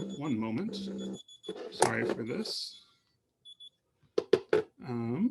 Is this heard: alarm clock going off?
yes